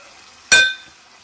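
Eggplant and raw mango curry being stirred in a pan, a single clinking scrape of the spoon against the metal with a brief sizzle, alone and close.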